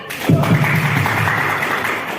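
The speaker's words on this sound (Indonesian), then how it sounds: "Mari kita kasih tepuk tangan untuk kita." Audience applause at a village PKK women's competition in Pringrejo, a dense, steady wash of clapping that starts abruptly and carries on at even loudness, with a low murmur of voices beneath.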